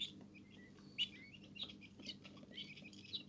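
Tiny Iranian chicken and quail chicks peep in short, high, scattered chirps, several calls overlapping over a low background hum.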